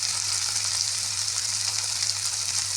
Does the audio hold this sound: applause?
no